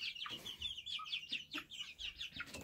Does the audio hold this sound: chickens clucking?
yes